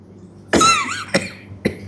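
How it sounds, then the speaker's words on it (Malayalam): A sharp cough followed by two shorter coughs, close and loud against a quiet background. "ചുമയല്ലേ"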